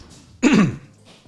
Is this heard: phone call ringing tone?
no